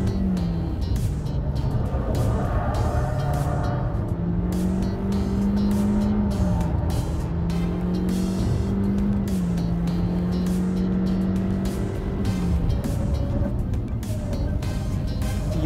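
A car with a CVT gearbox accelerates out of a corner on a race track, its engine droning loud and close with a steady, smoothly rising pitch, overlaid by tire and wind roar throughout.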